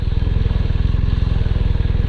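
A Honda Hondamatic motorcycle engine idles close by, giving a smooth, steady low pulsing throb with a faint mechanical clatter and no voices.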